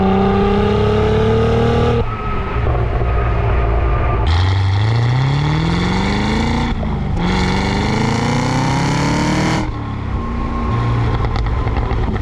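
A Cadillac CT5-V Blackwing engine pulls hard through the gears, each loud rising wail broken by a sharp upshift, with the note climbing again after every change and no talk over it.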